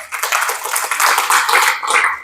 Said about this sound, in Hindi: मैं चाहूंगा आपके लिए तालियां हो जाएं।